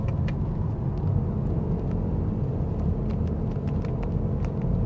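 Mazda MX-30 R-EV with its rotary engine generator starting while driving, heard as a steady low road rumble and engine drone inside the car, quiet and continuous with no talk.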